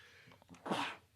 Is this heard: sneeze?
yes